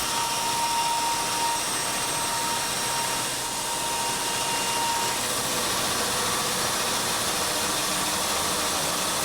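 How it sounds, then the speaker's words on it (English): A bandsaw cuts curved wooden furniture pieces, marked out with a flexible strip of wood, giving a steady, unbroken motor whir with a faint tonal whine throughout and no voices. "Use a flexible piece of wood to mark the curves and bandsaw them out."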